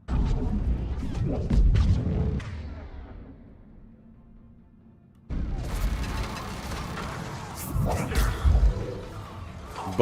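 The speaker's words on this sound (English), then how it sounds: "I'm gonna throw a grenade on it." Grenade blast in the shooter Mass Effect 3, thrown at an enemy turret: loud booming bursts and crashing debris early, a quieter lull, then a second sustained roar of explosive noise and rumble.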